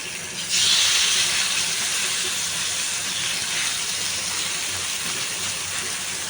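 Chicken breast pieces fry in a little oil on a tawa over low heat, a steady close hiss that jumps up as they go in and then holds even throughout.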